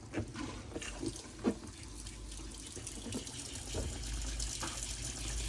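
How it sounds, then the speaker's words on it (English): Hot water running from a Burstner Lyseo T744 motorhome kitchen tap, a steady faint gush with a few sputtering bursts as air clears from the system, heard alone without talk. "just literally come over to this kitchen tap here, turn the tap to the hot side and lift the tap up"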